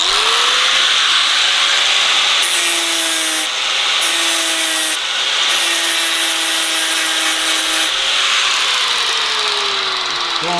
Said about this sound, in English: now we can grind that lug off of that